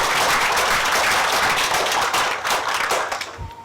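An audience at a 2015 TIGP graduation ceremony claps loudly for the graduates, a thick, continuous wash of applause that thins slightly toward the end.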